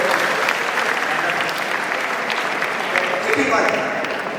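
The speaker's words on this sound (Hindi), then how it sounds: "50 ताली बजाते हैं।" A seminar audience claps together in a steady, dense wash of applause that holds loud and even throughout, with no talk standing out.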